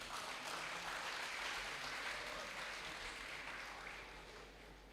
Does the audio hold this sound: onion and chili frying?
no